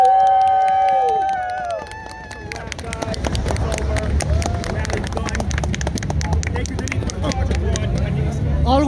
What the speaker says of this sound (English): yourself a round of applause!